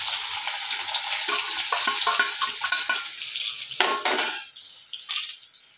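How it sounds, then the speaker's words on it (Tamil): Cumin, crushed onion and garlic frying in hot oil in a kadai for a potato fry, with a steady sizzle, a spoon stirring and scraping against the pan, and occasional sharp clinks of metal. "எண்ணெய் சூடானதும் ஜீரகம், கொஞ்சம் வெங்காயம் பூண்டு இடித்து வச்சுருக்கேன்,"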